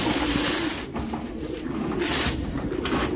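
Racing pigeons kept for one-loft races make soft cooing calls in a loft, close and continuous over a steady background hum, with no talking.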